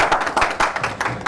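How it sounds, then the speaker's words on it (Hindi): An audience claps at a ceremony where a World Book of Records certificate is presented, giving a brief burst of dense, fairly close hand claps that swells in uneven waves. "इनके लिए मैं चाहता हूँ कि आप एक बार ज़ोरदार तालियों से स्वागत"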